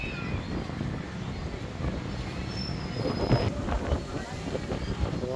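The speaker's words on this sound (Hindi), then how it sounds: "हवा चलती पई बड़ी तेज" Strong wind buffets the microphone on the seafront at Scarborough, a steady roaring rumble that swells near the end, with faint background sounds mixed in.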